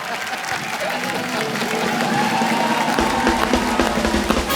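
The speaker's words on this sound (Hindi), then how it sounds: "एक बार हेजल और युवराज के लिए जोरदार तालियां।" Studio audience applause on The Kapil Sharma Show, a steady crowd clapping that holds at a fairly loud level throughout, with some cheering and voices mixed in.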